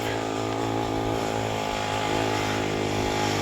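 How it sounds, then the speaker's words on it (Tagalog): A motorcycle engine labors up a mountain road, a steady buzzing drone with harmonic hum held at close range throughout, no speech over it. "Ayun akyat ang motor."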